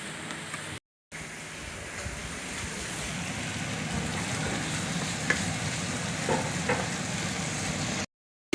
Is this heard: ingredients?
yes